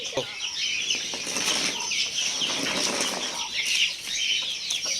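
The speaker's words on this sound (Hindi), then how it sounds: "सारी देसी मुर्गियों को बुलवा लेते हैं।" Desi chickens flap their wings in busy bursts and cluck nearby, a lively flurry of feathers and calls close to the microphone.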